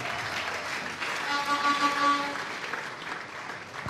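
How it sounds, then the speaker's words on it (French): A church congregation applauds loudly, with dense, steady clapping from many hands and a brief tonal voice or cry blending in mid-clip. "acclamons très fort"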